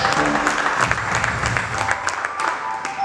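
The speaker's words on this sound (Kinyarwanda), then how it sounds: "Tukomere Imana amashyi" Congregation at a church service applauding, a dense, steady clapping from many hands that carries on for about three seconds and stays fairly loud throughout.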